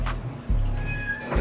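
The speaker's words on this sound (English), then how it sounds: "Excuse my cat, she's in heat" A female cat in heat meows loudly and insistently indoors, drawn-out wailing cries close by, with a short yowl at the start and another at the end.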